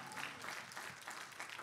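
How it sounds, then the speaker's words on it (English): A church congregation claps together in a brief, steady burst of applause, heard from a distance with a soft, even texture. "Give the Lord a hand clap for that."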